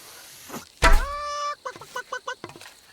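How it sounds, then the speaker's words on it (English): A character in Kingdom Come: Deliverance 2 lets out a loud, nasal honking squawk with drawn-out harmonic wails, followed by a quick string of short clucking bursts, nearby and alone. "What is he making chicken noises at?"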